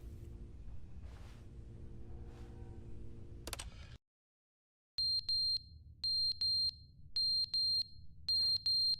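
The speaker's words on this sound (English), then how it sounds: "fire alarm went off" A fire alarm sounds in The Stanley Parable: Ultra Deluxe, with repeated loud electronic beeps in short regular bursts over a low hum. Other game sounds come first, then a moment of silence before the alarm starts.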